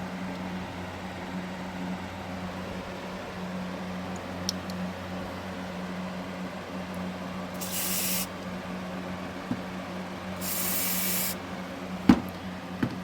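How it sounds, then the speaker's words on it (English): Two short hissing bursts of aerosol penetrating oil sprayed on bolts of a Miata header, each lasting about a second, over a steady low machine hum with a few faint clicks. "This is the best penetrating oil you can get, so we're going to spray it on."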